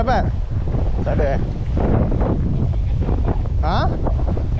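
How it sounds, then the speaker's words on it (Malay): Strong sea wind buffets a microphone aboard a small fishing boat off Penang, a loud continuous roar with water and boat noise beneath and a few brief voices. "Angin pun dah kuat lah."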